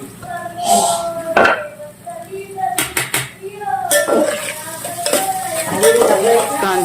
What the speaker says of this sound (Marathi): कांदा गुलाबी होईपर्यंत भाजून घे.